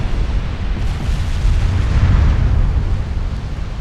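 Heavy shell hits and explosions rumble around a battleship in the naval game Ultimate Admiral Dreadnoughts, a loud, dense, continuous roar with no talk.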